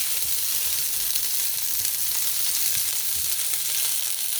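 Onion sizzling steadily in a brand-new pot being used for the first time, a continuous close frying hiss with faint scraping underneath.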